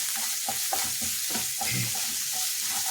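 A mixture being stirred in a pan over the heat, with a steady soft sizzle and rhythmic scraping strokes about every half second, close and moderately quiet.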